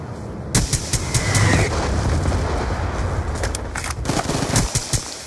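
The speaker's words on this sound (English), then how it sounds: "Hellstorm missile inbound." A Hellstorm missile strike in Black Ops 2 sets off a heavy boom, followed by a dense, continuous barrage of explosions and rapid gunfire that stays loud throughout.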